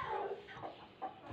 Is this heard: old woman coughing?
no